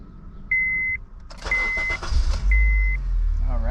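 A turbocharged 8th-gen Honda Civic fitted with Acura RDX 410cc fuel injectors: three short dash chimes, a quick starter crank, then the engine catches and settles into a low, steady idle close by.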